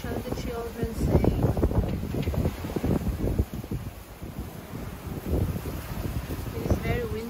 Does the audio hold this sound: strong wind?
yes